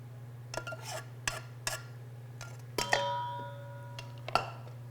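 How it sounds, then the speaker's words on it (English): Chicken wings coated in garlic parmesan butter are tossed inside a lidded container, giving a few sharp knocks and rattling clatters, one leaving a brief ringing tone, close up over a steady low hum. "Put a lid on it and toss them around."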